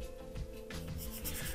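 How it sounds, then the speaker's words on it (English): A sanding stick rasps and rubs across small plastic model kit parts from a Bandai Yamato Mecha Colle set, in short close strokes against a steady background hum. "So I'm just going to take a sanding stick and just quickly"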